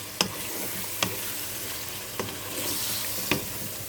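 Steady sizzling of diced chicken breast frying in a pan, with four sharp knocks of a utensil stirring against the pan at intervals.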